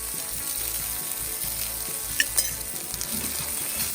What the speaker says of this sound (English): Add the garlic, and you'll see it'll burn very quickly. So what I'm going to do is stir it for 10 seconds.